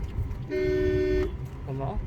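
A Maruti Suzuki S-Cross car horn sounds one sustained honk lasting under a second, loud and near, followed by a shorter tone, with highway traffic and voices around it.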